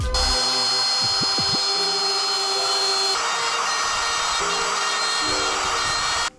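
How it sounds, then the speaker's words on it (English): Wood router fitted with a 1/4 inch bit cutting wire channels for 12V wiring in a teardrop camper, a loud steady high-pitched whine held through the clip with shifting load tones as the cut proceeds, no talking. "I only have a 1/4 inch size bit for my router, but I can just make a couple of extra passes"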